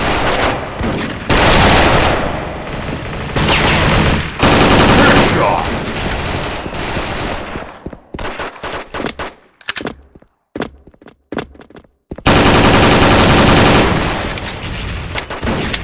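Rapid bursts of G36C rifle fire in the online shooter Special Force, loud and continuous with brief pauses and scattered single shots between them.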